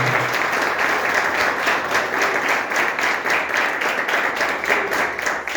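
A church congregation at a Saturday service breaks into loud, dense, sustained applause, a steady wash of many hands clapping together throughout.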